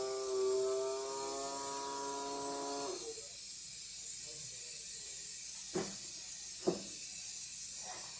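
Vacuum sealer sealing a food bag: a droning pump tone with layered harmonics for about three seconds, then a hissing release and a couple of faint clicks and thumps.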